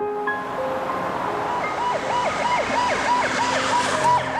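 A 119 ambulance siren wails in a fast, repeating up-and-down pattern, fairly loud and continuous against traffic rumble, in Daegu, South Korea.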